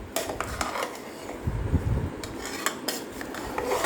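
A dosa ladle scrapes and clinks through tomato rice in a pot, with irregular metallic taps and soft scraping strokes close up.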